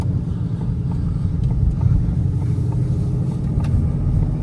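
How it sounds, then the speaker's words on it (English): A 2021 Ford Mustang Shelby GT500 engine rumbles steadily from inside the car, a deep, loud continuous drone with faint clicks over it and no talk. "this engine, plenty of power, sounds good."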